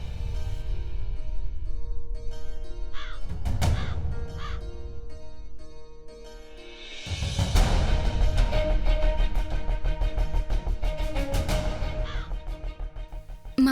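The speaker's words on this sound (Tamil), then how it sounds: "மாமாவோட பறவை வந்துருச்சு." A bird caws repeatedly at moderate distance, harsh crow-like calls breaking through a loud, dense background of music and ambient noise.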